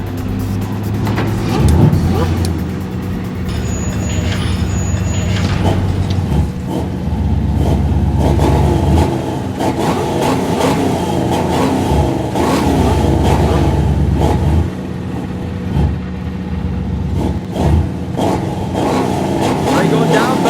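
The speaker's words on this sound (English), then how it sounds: "The two Batmobiles will be racing in a quarter-mile straightaway" Two Batmobile cars race down a quarter-mile straightaway, engines roaring and revving loudly and continuously, with deep rumbling and shifting pitch throughout, under steady background noise.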